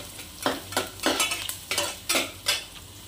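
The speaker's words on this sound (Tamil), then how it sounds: "சின்ன வெங்காயம் கொஞ்சம் போட்டுக்கிறேன், கருவேப்பிலை, நல்லா வதக்கி விட்டுருங்க." Small shallots and curry leaves sautéing in a hot pan for a fish curry, with a steady sizzle under a regular rhythm of about seven spoon-stirring scrapes, close and fairly loud, with no voices.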